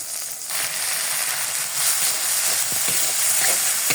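Ground cumin, garlic, ginger and onion paste frying in a pan for a chickpea curry, a continuous soft sizzle and hiss close by with faint stirring scrapes and no talking.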